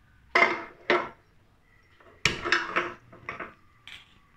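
Fried chicken pieces tossed and shaken in a metal pan to drain off excess oil for chilli chicken, heard as a few sharp clattering knocks, two quick ones then a denser cluster, close and fairly loud with no talk.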